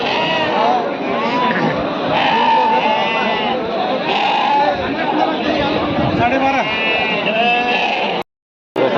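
Young lambs and goats bleat loudly and repeatedly at a busy sheep market, their calls overlapping with nearby chatter and crowd noise.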